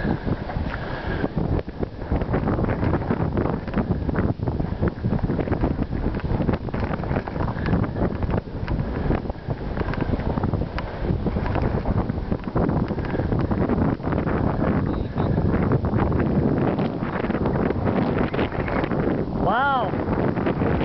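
Heavy wind in New Brunswick roars across the microphone in constant loud buffeting gusts, with voices talking over it throughout.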